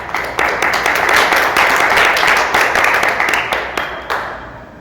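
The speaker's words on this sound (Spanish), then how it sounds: "Den un aplauso al Señor." A church congregation claps in worship, a close, loud burst of many hands with sharp individual claps standing out before fading toward the end.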